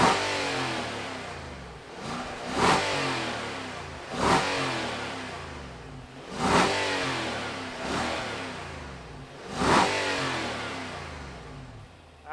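Naturally aspirated V8 of a 2022 Infiniti QX80 full-size luxury SUV, revving in repeated bursts about every two seconds, each rising and falling back over a steady rumbling idle, moderately close and alone.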